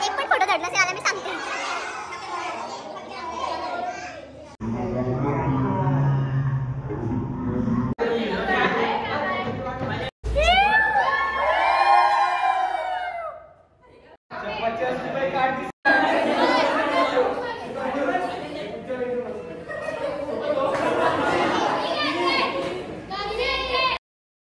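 Chatter of many children fills a school in Karjat, Abhinav Dnyan Mandir, a loud, continuous babble of young voices with brief pauses and a few higher shouts rising above the crowd.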